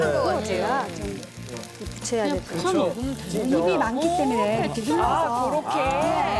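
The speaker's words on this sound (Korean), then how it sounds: "지글지글한 소리 들리세요?" A lettuce pancake fries in oil in a temple-food cooking setting, giving a continuous soft sizzle underneath. Two people talk steadily over it for the whole stretch.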